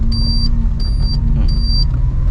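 A car's engine hums low and steady as a learner driver releases the clutch and pulls away in first gear, with a high electronic beep repeating three times over the rumble.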